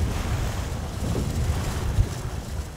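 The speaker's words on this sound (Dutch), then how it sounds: "Er staat wel wat wind, dus dat is wel stoer." Wind blows over the open IJsselmeer lake during a swimming marathon crossing, a steady low roar of gusts buffeting the microphone, with water washing beneath and a brief thump.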